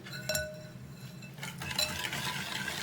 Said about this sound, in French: Je casse œuf par œuf.